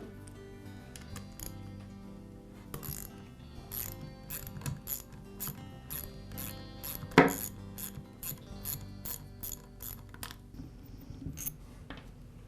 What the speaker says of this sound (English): the next step is to remove the head bolts.